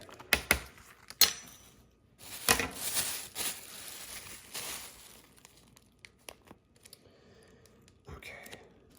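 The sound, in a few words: opening a vacuum sealed plastic pack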